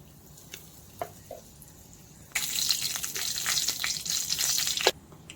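Dried red chilies and asafoetida hit hot oil for a tempering, bursting into a loud, close sizzle that holds steady for about two and a half seconds and then cuts off, with quieter kitchen clinks before it.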